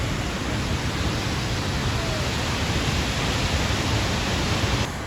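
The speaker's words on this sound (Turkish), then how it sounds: "şelalenin gürültüsü her şeyi bastırıyor" Doğançay waterfall roars as a loud, dense, unbroken wash of falling water filling the whole scene.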